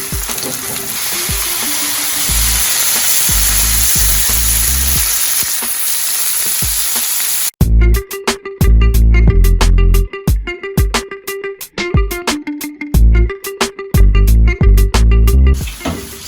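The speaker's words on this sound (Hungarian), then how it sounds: "Ezt még pirítsátok így egy 3-4 percig." Bell peppers fry in a pan with a steady loud sizzle that gives way to choppy stirring and scraping, close up and with no talking, in a kitchen making a vegan Philly cheesesteak filling.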